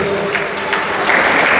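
An audience claps loudly and steadily at a felicitation ceremony honouring international karate competition winners, dense close applause throughout with crowd murmur, swelling slightly toward the end.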